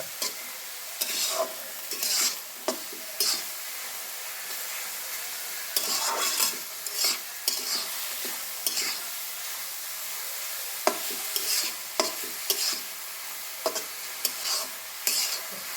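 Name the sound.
frying cabbage with egg in a pan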